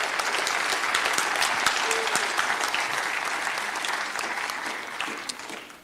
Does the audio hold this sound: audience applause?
yes